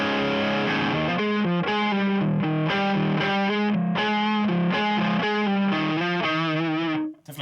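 Electric guitar through a KTR overdrive pedal, with a strummed, lightly distorted chord progression carrying a slightly honky midrange, played steadily and close up before fading out at the end.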